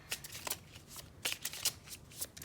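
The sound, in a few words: shuffling tarot cards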